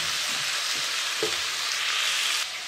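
Chicken pieces refrying in a pot for an Andalusian-style dish, giving a steady, close, broadband sizzle with faint scrapes and clinks, uninterrupted by speech.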